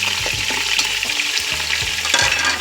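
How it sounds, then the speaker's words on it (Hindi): Beef pieces with some bone fry and get stirred in a hot pot for nihari, loud close sizzling broken by repeated scraping stir strokes. "हमने गोश्त इस वक्त तक फ्राई करना है जब तक इसका कलर चेंज नहीं हो जाता"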